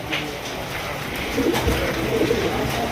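Pigeons coo softly in a pigeon farm, low throaty calls repeating over a steady background murmur, fairly close and moderately loud.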